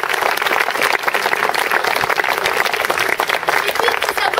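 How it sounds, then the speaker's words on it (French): Audience applause after a theatre presentation, a dense, steady wash of many hands clapping close and loud throughout, with no break. "alors un grand applaudissement."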